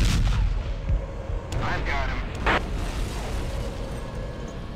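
Machine gun and heavy weapon fire in the ARMA: Cold War Assault video game, a dense continuous roar of bursts and booms with a faint radio voice underneath.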